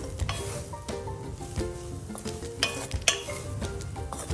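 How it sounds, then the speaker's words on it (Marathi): Grated fresh coconut stirred and sautéed in a pan, with scraping and light clinks of a spatula against the metal under a soft sizzle, close and fairly quiet. "ओलं खोबरं परतून घेऊ छान खोबरं छान आपण परतून घेऊया"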